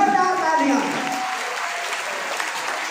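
An audience at a school cultural programme in Bada Gaon applauds, clapping filling the clip and gradually settling while a voice speaks over the opening moment.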